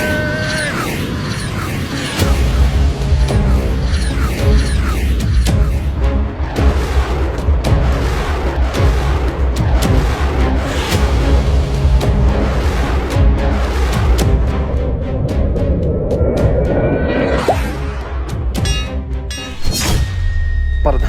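Aircraft bombs exploding in a dense, continuous barrage of heavy booms and thuds with rumbling low end, loud and close throughout, a distinct whooshing swell near the end.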